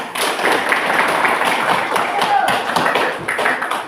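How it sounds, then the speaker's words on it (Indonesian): A classroom group of students claps hands together, brisk close clapping with thumping taps, loud and fairly continuous before fading at the end. "Bagus, tepuk tangan."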